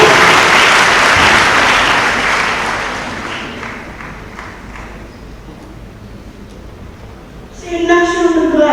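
Church congregation applauding during a communion and confirmation Mass in Ouakam, a dense burst of clapping that slowly fades, then a voice begins speaking near the end.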